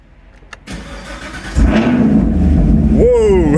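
A Camaro SS 1LE V8 with a newly installed MBRP axle-back exhaust cranks briefly, fires up with a loud burst and settles into a deep, rumbling idle, close to the microphone with a short rev-like rise near the end.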